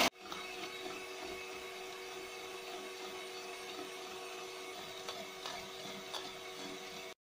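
An electric hand mixer beating eggs and sugar for a chocolate coffee cake, whirring steadily and alone at moderate loudness for the whole stretch.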